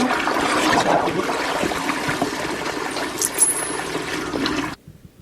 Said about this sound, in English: How about a courtesy flush over there?